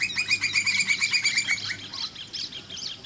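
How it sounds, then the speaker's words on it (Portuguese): A campo flicker, a large ground-feeding South American woodpecker, gives a rapid series of loud repeated chirping calls that slow and fade toward the end, close by. "Ele é um grande pica-pau sul-americano."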